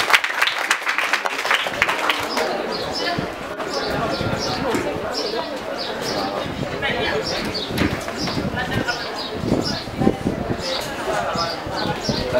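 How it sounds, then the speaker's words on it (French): Dense, steady clapping from a crowd fills the whole stretch, with a busy texture of many hands and some voices mixed in. "Applaudissez pour lui."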